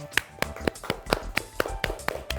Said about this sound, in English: Can we just have a round of applause for Alena?